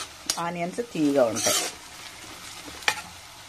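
A short burst of onions frying with stirring scrapes in a pan, sizzling briefly under a voice, then a single sharp clink of utensils.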